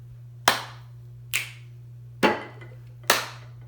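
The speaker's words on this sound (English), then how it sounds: "Clap, snap, pat, clap." Four sharp, evenly spaced body-percussion hits sound in a clap, snap, pat, clap pattern, each crisp and close against a steady low hum, with quiet gaps between them.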